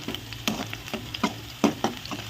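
Garlic frying in a pan for spinach moong dal fry, a steady low sizzle broken by several sharp spatula scrapes and stirring knocks at irregular intervals, close and moderately loud.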